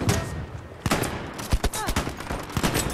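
Bursts of gunfire in Battlefield 5 crack out in rapid, irregular volleys, loud and close, mixed with machine-gun rattle, with a voice speaking underneath.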